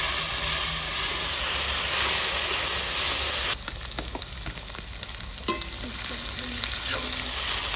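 Ginger-garlic paste fried with onions for chana masala: a loud bright sizzle that drops sharply as the paste goes in, followed by quieter crackling and scattered stirring scrapes.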